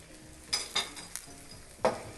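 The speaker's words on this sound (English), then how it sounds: "Give it a stir." A spoon stirs shrimp gumbo in a pot, giving a few light scrapes and knocks against the sides over a quiet, low simmering sizzle.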